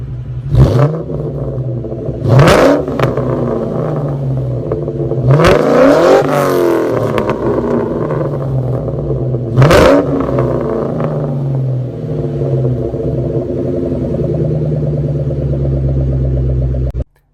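A 2004 Mustang Cobra fitted with a Borla Stinger catback exhaust is revved several times over a deep idle, close and loud, with quick sharp blips and one longer climbing rev before the engine cuts off abruptly.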